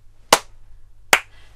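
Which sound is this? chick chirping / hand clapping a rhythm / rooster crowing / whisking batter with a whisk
hand clapping a rhythm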